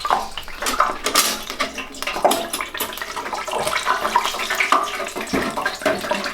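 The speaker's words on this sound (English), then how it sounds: "we lowered this into the hot boiling oil" Bubbling, crackling sizzle of a whole turkey being lowered into hot frying oil in a Masterbuilt fryer indoors, with clattering metal and splashing hiss throughout.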